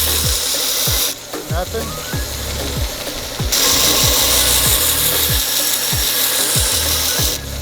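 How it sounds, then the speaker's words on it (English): A knife being sharpened on a sharpener, with repeated rhythmic rasping strokes of metal drawn along the abrasive, close and loud, in a steady series of about a dozen passes with brief pauses. "practice sharpening on that knife"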